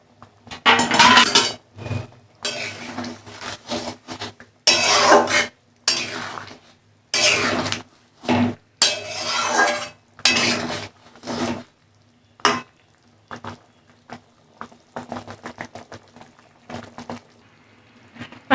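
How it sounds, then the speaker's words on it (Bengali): Lentil fritters (bora) dropped into a pot of boiling curry, giving a series of short splashing, clattering bursts with bubbling and scraping between them, fairly close and with no voices. "ঝোলটা ফুটে গেছে। এবার আমি বড়াগুলো ছেড়ে দিচ্ছি"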